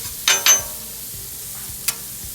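Butter, about 1.5 tablespoons, sizzling in a pan while a spatula spreads it around, with a soft, steady frying hiss and a few sharp close scrapes and clicks of the spatula against the pan.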